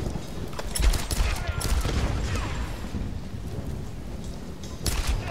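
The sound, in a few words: gunshots in Tomb Raider video game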